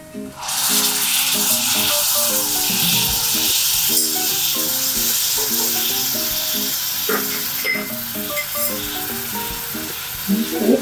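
Chopped tomato dropped onto light-pink sautéed onion for sev usal: an immediate loud sizzle, then continuous frying hiss with rhythmic rattling stirs of the spoon against the pan.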